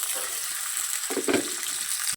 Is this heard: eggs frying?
yes